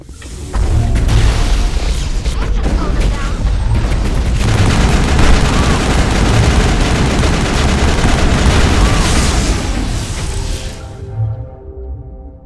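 Sustained gunfire in a Mass Effect firefight inside a lab, a dense, loud barrage of overlapping shots and booms running continuously for about ten seconds before cutting off abruptly.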